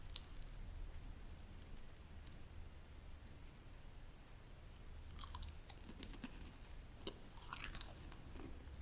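Soft, close chewing and crunching of an egg wrap, with irregular bites and moist mouth sounds that grow busier and crisper toward the end; no talking.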